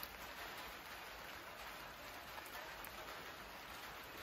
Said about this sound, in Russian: Мы снимали в таких экстремальных условиях. Дождь, ветер.